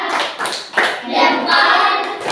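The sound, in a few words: group thumbs-up clapping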